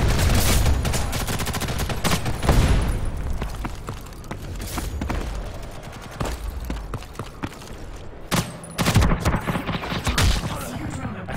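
Rapid bursts of video game gunfire, grenade explosions and seeker drones crack over each other, dense and chaotic, with brief lulls between heavy volleys.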